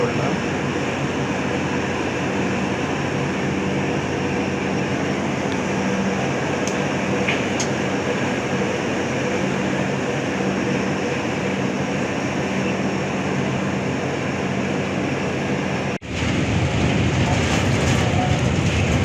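An express train runs at night between Chennai and Kolkata through Andhra Pradesh, giving a continuous heavy rumble with faint rail clatter, broken by a brief dip near the end before the roar resumes.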